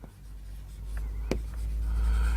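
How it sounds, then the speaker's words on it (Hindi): A pen scratching out a working note on paper over a low steady hum, one sharp stroke standing out among soft faint scribbles. "इसमें लिख दो नीचे सी वर्किंग नोट."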